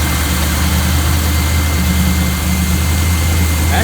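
A 1984 Chevy Blazer engine idles in a steady, low, even rumble with a faint whine on top, close and unbroken for a few seconds with no voices.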